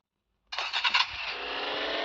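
A black Toyota Fortuner's engine fires up in a video game, a sudden start after half a second of silence, then a few uneven catches settling into a steady, loud idle.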